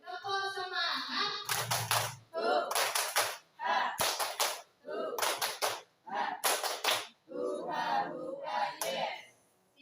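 A group of teachers at a special needs school in Demak, Indonesia, performs a rhythmic spirit clap, with sharp claps in repeated bursts alternating with loud chanted voices, each pattern separated by short pauses.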